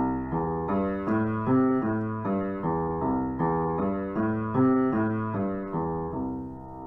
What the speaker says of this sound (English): We split up the chord and play one note at a time.